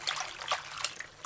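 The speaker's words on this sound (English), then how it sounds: "Do what I'm doing and kind of press gently the callaloo in the water" Fresh callaloo (amaranth) is pressed gently by hand into a bowl of water with drops of distilled white vinegar, giving soft brief trickles and light splashes close up.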